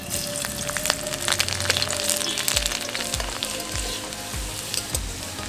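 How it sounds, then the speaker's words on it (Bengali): Chopped garlic frying in hot white oil in a kadai, a close, steady crackling sizzle with bursts of spitting, and a few soft stirring scrapes in the latter half. "রসুনটা হালকা বাদামি করে ভেজে নেব"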